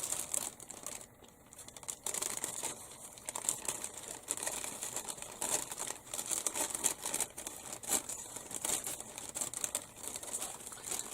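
A plastic sheet for a heat-sealed bag is handled and cut, giving continuous close crinkling and rustling with scattered sharper crackles and snips throughout.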